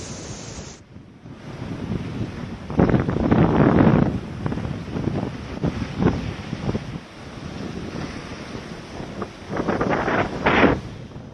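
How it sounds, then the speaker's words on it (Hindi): High sea waves surge against the coast at Dwarka as Cyclone Biparjoy brings strong wind, a loud, continuous roar of surf with rushing gusts and several heavier crashing swells. "तस्वीरें आप देख रहे हैं द्वारका की, जहां समंदर में ऊंची ऊंची लहरें उठ रही हैं"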